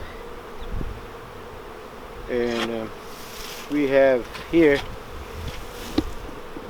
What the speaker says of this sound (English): the bees already start getting on top